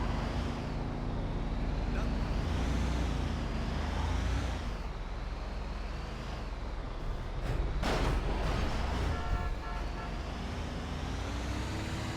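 A small car in GTA V drives on at a steady, continuous engine drone, with a brief sharp burst of noise partway through.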